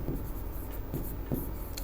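Pen or chalk writing a word during a Hindi synonyms lesson, a steady scratchy stroke sound running nearly continuously, fairly close, with brief pauses between strokes.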